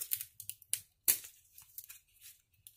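Scales being peeled and snapped off a dry pine cone close up, a series of irregular crisp cracks and rustling tears with short pauses between them.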